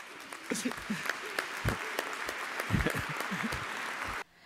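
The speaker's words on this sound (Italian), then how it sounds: "L'applauso finale a Monsignor Pizziolo è stato il modo della comunità vittoriese di dimostrargli la propria vicinanza" A congregation gives its final applause for a monsignor after a church service, clapping at moderate, fairly distant level, with scattered voices and thumps mixed in before it cuts off abruptly.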